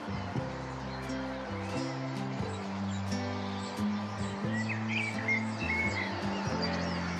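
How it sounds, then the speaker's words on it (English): Male blackbird singing outdoors at a nature reserve in summer, its fluting phrases faint and fairly distant over a steady, droning tonal background. "on the way we're serenaded by this beautiful male blackbird."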